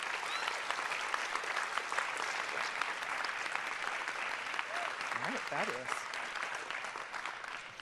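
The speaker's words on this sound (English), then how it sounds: "can I ask everybody to give an aggressive round of applause for all of our accomplishments?" Audience applause at a conference session, a long dense roll of clapping lasting several seconds, with a brief voice or whoop partway through.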